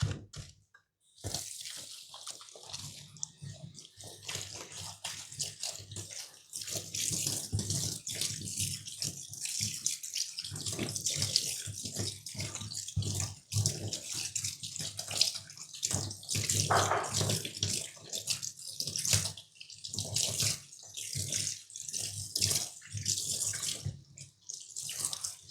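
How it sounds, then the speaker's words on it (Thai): Tap water runs steadily over a hairpiece as it is washed by hand at home, a continuous splashing gush that stays loud and close for most of the stretch, with brief interruptions and shifts in flow. "ล้างข้างนอกแล้วก็ข้างใน"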